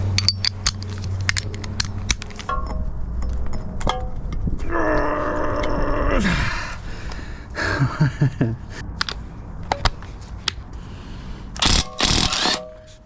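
Wheel bolts on a Mini come undone under a hand ratchet: bursts of quick metallic clicking and clanking, close and fairly loud, with a longer grinding stretch midway and no talk.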